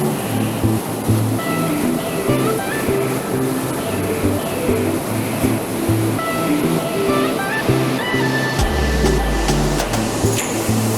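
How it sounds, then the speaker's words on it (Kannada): Water rushes forcefully at Vani Vilasa Sagara dam in a loud, continuous, close roar of surging flow, with faint tonal sounds drifting through it. "ಈ ನೀರು ಇಷ್ಟೊಂದು ಫೋರ್ಸಾಗಿ ಎಲ್ಲಿಂದ ಬರ್ತಾ ಇದೆ"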